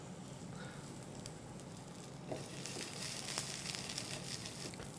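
Green curry sea bass fish cakes frying in a little oil in a nonstick pan, giving a steady, close sizzle and crackle with brief spits and pops that grow slightly louder midway, with no talking.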